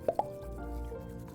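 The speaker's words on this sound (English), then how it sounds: "popping the bubbles" Bubbles popping in the video game Before Your Eyes: two quick, bright plops in close succession, then a soft low hum underneath.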